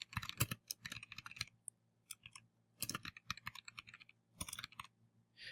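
Typing a page title on a computer keyboard: soft, close key clicks come in three quick bursts of rapid tapping separated by brief pauses, quiet and alone.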